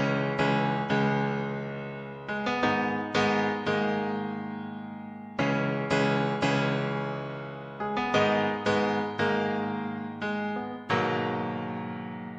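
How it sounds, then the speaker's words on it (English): Piano patch from a Roland SRX keyboard playing a simple repeating chord progression, struck chords recurring in a steady rhythm with sustained decays, close and clear with no voices. "I also started with a piano from SRX keyboard"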